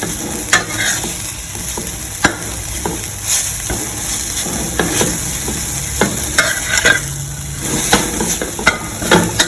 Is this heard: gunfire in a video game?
no